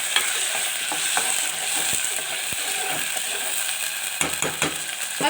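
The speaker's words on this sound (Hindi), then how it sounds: "अब चिकन को हमने करना है फ्राई" Chicken frying in a pan with cooked garlic and ginger, a steady close sizzle broken by scraping stirs and clinks of a utensil against the pan throughout.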